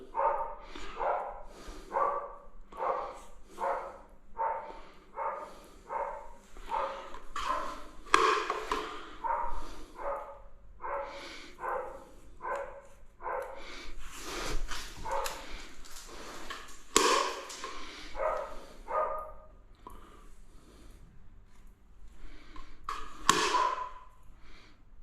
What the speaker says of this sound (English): Dogs are woofing at something.